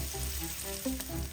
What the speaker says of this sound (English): There's just something satisfying about bacon sizzling.